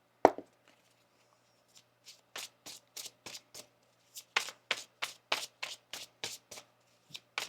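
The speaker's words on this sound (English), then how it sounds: "One more shuffle." Tarot cards shuffle in crisp bursts, a run of short riffling snaps in quick succession with small pauses, close and quiet with no talking.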